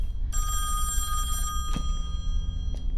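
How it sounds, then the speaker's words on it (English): A telephone rings inside the Song of Horror video game, a steady electronic bell tone sounding continuously and fairly loud with no talk over it. "I shouldn't answer the phone. Should I?"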